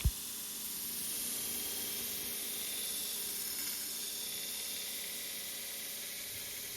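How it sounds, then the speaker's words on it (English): A flat grinder works the heel and choil of a hand-forged steel chef's knife, giving a steady, continuous abrasive hiss that holds at an even level throughout with no voices. "Grinding the heel or the choil of the knife can be tricky, since you're trying to grind a small radius with a flat grinder"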